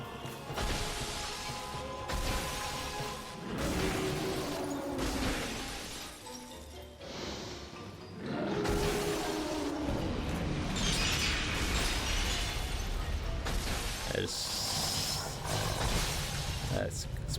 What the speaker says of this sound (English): That's explosion.